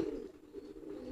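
A pigeon coos close by in a low, steady, continuous murmur lasting about a second, with nothing else heard.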